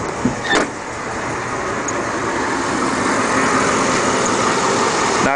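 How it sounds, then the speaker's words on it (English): A 2002 Chevy 3500 utility truck engine with a misfire runs at a steady idle, a continuous close rumble, with a brief click and knock at the start. "It drives okay, but it does have a miss in it."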